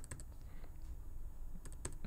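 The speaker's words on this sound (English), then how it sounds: "If I hit L on my keyboard twice" A computer keyboard gets a few light, quick key clicks, like the L key pressed twice, against a faint low background hum. The taps are soft and close, clustered at the start and near the end.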